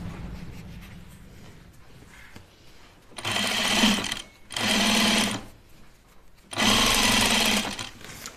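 Sewing machine stitching denim jeans seams in three loud, rapid runs of a few seconds each, separated by short pauses with quiet room noise.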